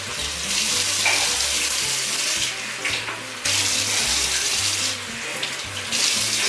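Tap water runs steadily into a pot being filled for boiling pearls for homemade boba tea, a continuous close splashing rush with slight shifts in pitch as the level rises, with no voices.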